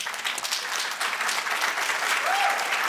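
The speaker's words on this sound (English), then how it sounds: "Let's give them another round of applause" Brief, steady applause from an audience at a college event welcoming a visiting king, a dense wash of clapping at moderate distance with no pauses.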